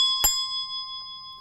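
A small hand bell whose clapper swings in only one direction is struck once, giving a single bright ding that rings on as a steady, sustained tone through the rest of the moment, with no talking.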